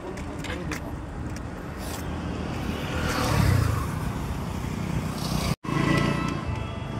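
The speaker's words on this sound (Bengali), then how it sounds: "রাস্তা পার হলাম, এদিকে বাইক আসছে, গাড়ি আসছে।" Road traffic on Bankura Road near Arambagh, with motorbikes and cars going by at close range. Engine noise rises and falls steadily throughout, with a brief cutout near the end.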